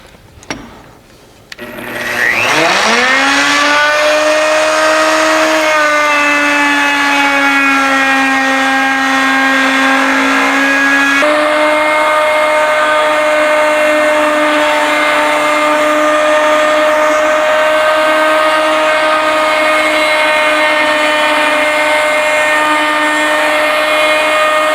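A metal lathe running a cutting pass with the carrier tray, starting with a brief clunk and spin-up, then a loud steady whine holding a constant pitch for over twenty seconds, close and with no talk.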